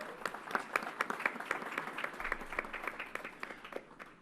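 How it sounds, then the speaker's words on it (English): Scattered applause at a government announcement event at Yankee Stadium, with individual claps distinctly audible as a faint, uneven patter lasting several seconds. "Let's give her a round of applause."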